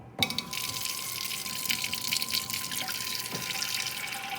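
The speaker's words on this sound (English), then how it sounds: "take your pot and fill it up with hot water" Hot water runs from a kitchen tap into a pot, a steady close stream starting abruptly after a clunk and continuing with a ringing, rising fill tone, no talking.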